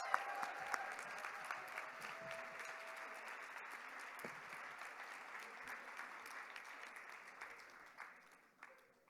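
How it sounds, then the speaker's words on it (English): Steady applause from a large audience at a 50th anniversary gala, a dense even patter of clapping that holds for several seconds and then thins out and fades near the end. "Let's have one more round of applause for the National Black Sisters Conference."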